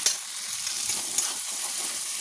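Ginger, garlic and green chili paste fries in a pan with a steady, bright sizzle up close. A brief stirring scrape rises near the start and again partway through.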